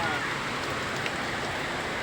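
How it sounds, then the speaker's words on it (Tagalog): Steady, dense hiss of heavy rain falling during flooding, a continuous wash of drops with no breaks across the whole stretch. "Buti nga, umina na rin yung ulan."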